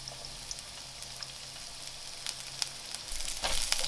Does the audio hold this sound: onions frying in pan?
yes